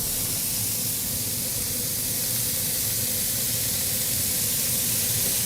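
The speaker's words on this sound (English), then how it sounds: "You can hear the sizzle." Beef burger pucks sizzling in duck fat on a griddle, a loud, steady, dense hiss with a low rumble beneath, continuous throughout with no voices.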